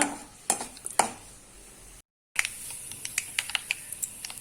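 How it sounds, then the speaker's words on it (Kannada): Mustard seeds, urad dal, chana dal and cumin splutter in hot oil with quick, sharp pops and crackles, scattered irregularly and close, with a few metallic utensil clicks. "ಸಾಸಿವೆ, ಉದ್ದಿನಬೇಳೆ, ಕಡಲೆಬೇಳೆ, ಜೀರಿಗೆ, ಇದಿಷ್ಟು ಪಟಪಟ ಆಗಲಿ ಸ್ವಲ್ಪ"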